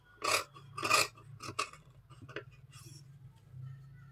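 Scissors cut through blouse fabric for a boat neck blouse, giving a run of close, crisp snipping and rasping strokes in uneven bursts, loudest early and then fading to softer cuts.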